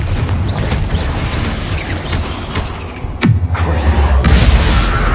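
A Confringo blast spell going off in Hogwarts Legacy, a loud booming impact with a falling whoosh around the middle, followed by rumbling fiery roar amid busy combat effects, close and dominant.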